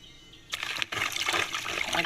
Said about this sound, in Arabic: اقلب الميه كده